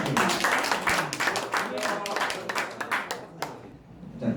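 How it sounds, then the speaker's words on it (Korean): Attendees at a Korean Lions Clubs Lions Quest promotional briefing clap in scattered, uneven bursts while people talk over it, moderately close. "다시 한번 큰 박수 부탁드립니다"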